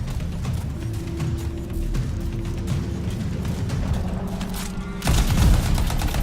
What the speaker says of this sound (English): So use RB to fire a homing missile.